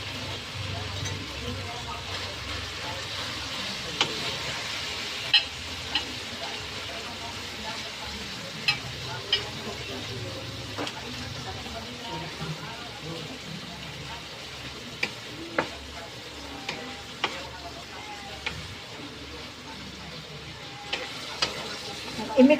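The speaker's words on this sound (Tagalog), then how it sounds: "I-mix-mix lang natin para maluto yung ground pork." Ground pork sizzles and fries in a pan while being stirred, a steady crackling hiss with occasional scraping clicks of the utensil, and someone talks over the cooking.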